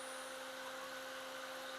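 Cordless drill spinning thin wire onto a core wire to wrap a Clapton coil for a vape build, a steady, even whine with a constant high tone, running alone without pause.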